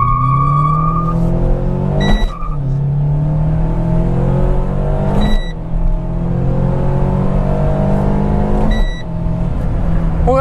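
A Renault Sandero RS Racing Spirit accelerates flat out in sport mode with traction control off, its engine revs climbing repeatedly through three gear changes, loud and close from inside the car with short dips at each shift.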